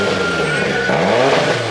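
Toyota AE86 engine idling at low RPM at a car carnival, a steady close rumble that holds evenly through the short stretch with no other sounds over it.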